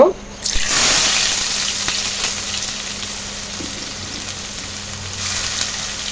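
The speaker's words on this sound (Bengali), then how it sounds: "তোমার তৈল গরম হয়ে গেছে আমি বেশ খানিকটা পেঁয়াজ কুচি দিব" Chopped onion hits hot mustard oil in a pan, bursting into a loud, dense sizzle that holds steady and close for several seconds.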